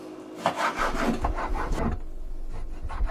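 A knife slices steak into fine strips on a cutting board for keto beef stroganoff, giving a close run of rhythmic scraping, sawing strokes that grow louder and continue without talk.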